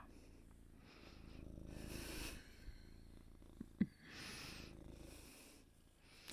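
Pet black cat purring while being stroked, a soft rumbling purr swelling and fading in slow breaths, close and quiet, with faint rustles and a small click.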